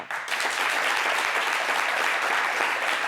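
Enthusiastic audience applause on a television talk show, dense clapping that starts abruptly and holds at an even, strong level for the whole stretch.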